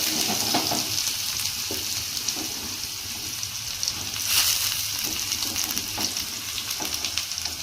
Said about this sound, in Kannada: ಈಗ ಒಂದು 4 ರಿಂದ 5 ಸಣ್ಣಗೆ ಹೆಚ್ಚಿನ ಈರುಳ್ಳಿ ಹಾಕ್ತೀನಿ